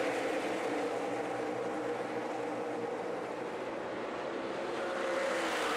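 NASCAR stock cars in the 2013 Great Clips/Grit Chips 300 roar together on track, a dense, continuous engine drone that stays loud and steady, with the field's sound swelling slightly toward the end.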